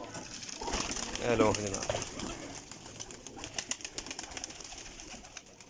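Flying pigeons perch in a loft, with one soft cooing phrase near the start and scattered flutters and rustles after it, while someone speaks over the birds.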